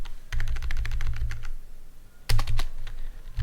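Rapid keystrokes on a computer keyboard while writing Python code, two bursts of close, crisp clicking separated by a short pause.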